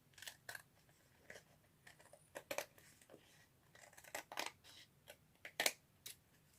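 Scissors trim paper for a craft page in a string of short, crisp snips, irregularly spaced, close but fairly quiet, with no talking.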